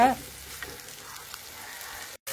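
About 200 grams of tapioca root fries in a pan over low heat, giving a soft, steady close sizzle with faint stirring, briefly cut by a moment of silence near the end.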